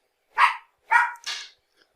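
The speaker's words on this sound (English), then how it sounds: "Sorry about the dog." A dog indoors barks three times in quick succession, sharp and fairly close, with brief silences between the barks and no other sound.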